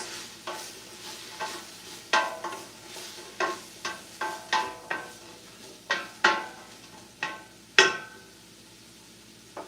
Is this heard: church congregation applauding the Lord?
no